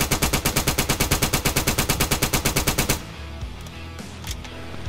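Rapid automatic gunfire in GTA San Andreas rattles in an even, fast burst for about three seconds, then cuts off, leaving quieter game background sounds.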